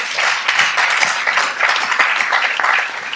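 Sustained applause from a congress audience in a hall at a Catholic public-life conference, dense steady clapping from many hands throughout with no voices on top.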